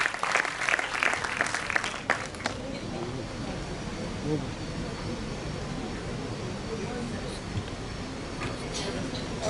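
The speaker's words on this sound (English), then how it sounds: "Can we have a huge round of applause for the Executive Board, please?" Audience applause for the Executive Board at a Model United Nations closing ceremony, a dense, sustained crowd clapping that fills the room, with a voice over it at the start.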